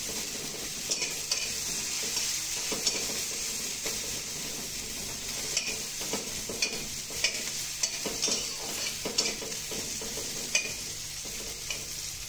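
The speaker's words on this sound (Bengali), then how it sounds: "গোটা পেঁয়াজ কুচি দিয়ে দিলাম।" Chopped onions frying in a little oil in a pan for a potato and egg curry, a steady sizzling hiss with irregular soft stirring scrapes and light clinks close by, no talking.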